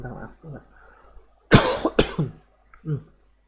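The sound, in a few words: cough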